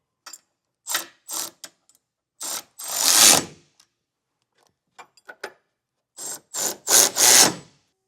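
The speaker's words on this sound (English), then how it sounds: "You'll need a 19 or 3/4 inch socket and a wrench to hold the nut." Socket wrench on a 19 mm (3/4 inch) socket tightening hidden trailer hitch bolts on a 2025 Hyundai, short bursts of loud, close ratcheting clicks separated by pauses, several quick runs in a row.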